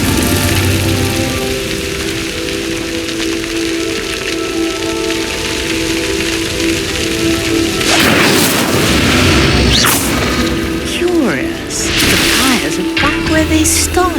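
An Incendio fire spell setting a pyre ablaze in Hogwarts Legacy: a long crackling, rain-like hiss over a low hum, then a louder burst of whooshing flame and sharp crackles in the later part.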